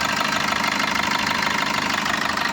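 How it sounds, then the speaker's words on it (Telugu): A 2017/18 Maruti Brezza car engine running at idle, a steady, loud, even rumble with a faint knocking texture, heard close up and alone without any talking. "ఇంజిన్ రన్నింగ్లో ఉంది."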